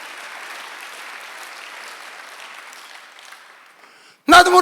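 A church congregation at a Sunday worship service claps, a soft, steady patter that fades out over several seconds, then a sudden loud burst of sound cuts in at the end.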